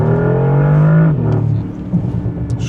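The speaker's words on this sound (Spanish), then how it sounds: "Se siente una aceleración súper segura, súper determinada." A 2025 Bentley Continental GT hybrid coupe accelerates with a loud, close engine tone rising in pitch for about a second, then easing back to a lower, rougher hum as the revs drop.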